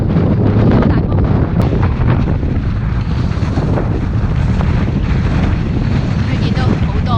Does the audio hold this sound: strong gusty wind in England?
yes